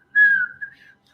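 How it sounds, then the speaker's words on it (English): A person whistles one short, thin tone that wavers and trails off unevenly within about a second, close and alone. "I can't whistle to save my life."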